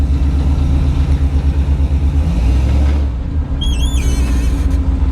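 A car engine runs steadily on the drive back to a house after a new rear main seal was fitted, a loud, close, continuous rumble that dips in level partway through, then carries on with faint high squeaks above it.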